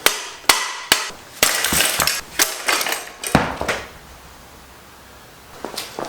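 Sharp metal hammer strikes knock parts off a bicycle. The blows come irregularly, loud and close, with some quick clanking clusters, then a quieter pause before a few final taps.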